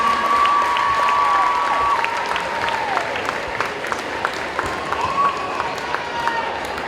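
Dense crowd applause and cheering fill a 2019 high school pep rally for the Homecoming Court, a steady roar with whistles and scattered shouts.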